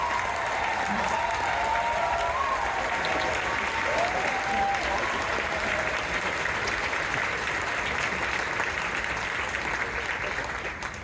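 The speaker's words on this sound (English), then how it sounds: "could you stand and wave at the audience so we can give you a round of applause?" A large crowd at a university marching band's final performance gives its band leaders a sustained round of applause, a broad, even wash of clapping lasting the whole stretch, with faint voices underneath.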